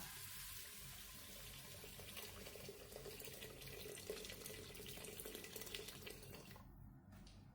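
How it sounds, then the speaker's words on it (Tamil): Hot water pours steadily into a cooking pot for green gram pongal, a continuous splashing rush that holds for several seconds before tapering off at the end. "இப்போ நம்ம வந்து சுடு தண்ணி ஊற்றிக்கிறோம்"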